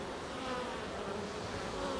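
A soft, continuous buzz of many honey bees humming together at a manuka honey hive, steady and close, with no voices.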